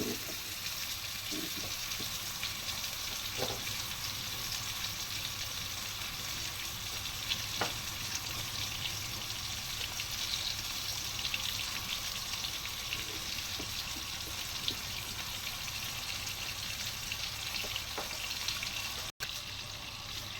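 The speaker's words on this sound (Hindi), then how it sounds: "इसको हमने हल्की आंच पे ऐसे ही पका लें इसी ऑयल में" Fettuccine Alfredo ingredients frying in oil in a pan over a low flame, a steady close sizzle that hisses evenly throughout, with occasional faint stirring clicks and no talking.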